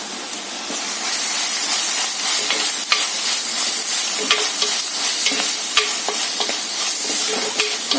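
Onions being stirred as they fry in a pan for an Indian egg roast, a steady loud sizzle with scattered scraping clicks of the spoon, close up and continuous with no talking.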